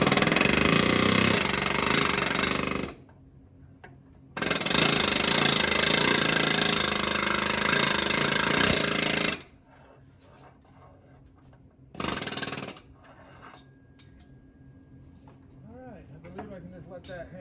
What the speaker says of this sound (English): I'm just going to air hammer that off the front